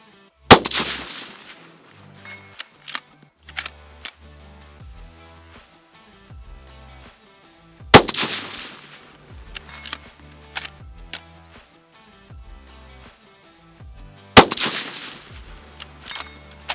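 Three sharp, loud rifle shots from a Lithgow LA105 fired at a target 400 meters away, each a crisp crack spaced several seconds apart, with ringing metallic pings and quieter clicks between them.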